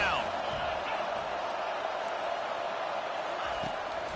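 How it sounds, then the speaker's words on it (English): Stadium crowd at a Washington at USC football game roars for the defense on third down, a dense, sustained wall of cheering and noise that holds steady and loud throughout. "Decibels rising as the crowd gets behind this defense on third down."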